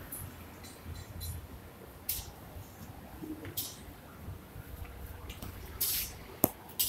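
Water splashes and drips sporadically off the ceramic-coated painted surface of a Royal Enfield Classic 350 motorcycle, with scattered small droplets and a few sharper splats against a faint background.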